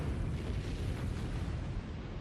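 An atomic bomb test explosion rolls out as a continuous, loud, deep roar, a dense rumbling blast that fills the whole stretch without pause.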